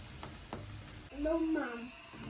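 Eggs for egg toast sizzle softly in a pan, with a faint crackling hiss under a short bit of voice.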